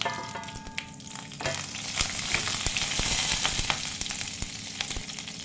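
Cumin seeds and whole spices sizzle steadily in hot oil for a mushroom and green pea masala, a soft, continuous frying hiss with small crackles throughout and no talking.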